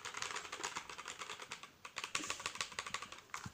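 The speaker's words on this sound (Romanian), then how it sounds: "Asta este tastatura bună pentru CSGO, că n-are switch-uri de alea cu click." Fingers type rapidly on a gaming keyboard with linear switches, producing a dense, even patter of soft key clacks up close with no voices.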